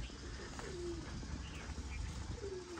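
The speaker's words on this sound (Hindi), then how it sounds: "कबूतर हमारे बाहर निकले हुए" Soft pigeon coos, two low gliding calls a couple of seconds apart, set against a murmur of outdoor background noise in a Punjab village.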